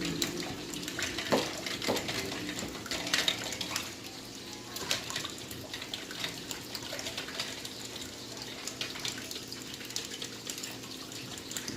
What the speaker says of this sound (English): But first I got to wash my little hands.